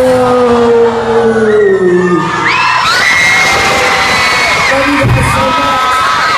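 A pop concert crowd erupts into loud screaming and cheering as the music ends, the final sung notes fading out under a wall of high-pitched shouts and whoops that continue to the end.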